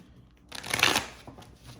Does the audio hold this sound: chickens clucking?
no